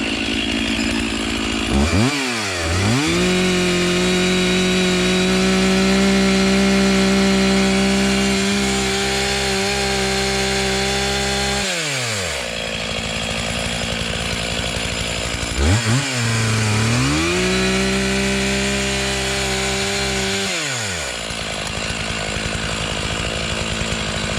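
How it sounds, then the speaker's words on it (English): Chainsaw bore cutting into storm-damaged red oak, a loud close engine snarl that bogs to a lower pitch under load while cutting, revs up between cuts, then drops into the wood again. "when bore cutting, see these rivets right here, I'm going to enter in the attack corner of this until my rivets disappear"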